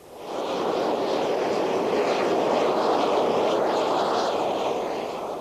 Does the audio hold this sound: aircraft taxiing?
yes